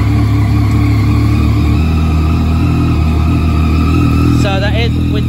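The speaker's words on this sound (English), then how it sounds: "Let's fire it up." A Yamaha MT-09 motorcycle with an Akrapovic exhaust, baffle in, rumbles loudly and steadily at idle, deep and throaty, with a voice briefly speaking near the end.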